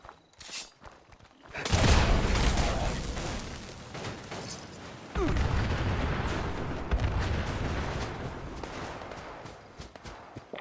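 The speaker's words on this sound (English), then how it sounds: "Somebody's shooting up outside the hotel." Gunfire and explosive blasts outside a hotel in Fallout 76, heavy rumbling bursts that swell at about two seconds and again at five, then slowly fade, with a voice talking in the background.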